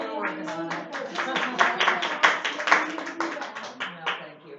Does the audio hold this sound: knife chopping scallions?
no